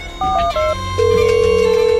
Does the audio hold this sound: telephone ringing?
yes